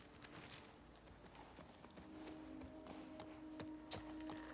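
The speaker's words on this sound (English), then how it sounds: "Clip, clop, clip, clop, clip, clop." Horse hooves clip-clop in The Last of Us Part 2, a steady run of faint, evenly spaced hoof knocks at a walking pace beneath quiet game ambience.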